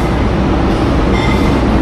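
Singasari economy-class train traveling from Pasar Senen toward Kediri rumbles loudly and continuously from inside the carriage, a dense, even rolling roar with faint rail clatter and no talking.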